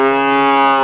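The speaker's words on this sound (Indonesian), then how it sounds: "suaranya kambing seperti ini" A goat bleats outside a house in a remote forest village: one sustained, strongly tonal bleat lasting under a second, close and loud.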